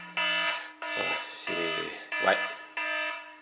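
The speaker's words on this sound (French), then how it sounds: "c'est l'alarme qui sonne, l'alarme du contrôle de la CGU qui signale que nos 2 compagnons sont morts" Repeated electronic alarm tones in the Gears of War video game, a loud harmonic wail pulsing in about five bursts, with someone speaking briefly over it.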